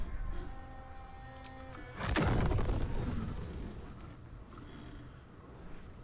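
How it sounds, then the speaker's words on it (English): A spell or bomb blast in the video game Baldur's Gate 3 erupts suddenly as a loud, broad boom that swells and slowly rolls off over a few seconds, following quieter background game ambience. "Explosion."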